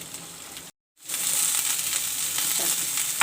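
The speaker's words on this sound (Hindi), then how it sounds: "शिमला मिर्च को हम हल्का सा फ्राई करेंगे।" Capsicum (shimla mirch) lightly frying in a pan for keema, a steady close hiss of sizzling that cuts out briefly and then returns louder and constant.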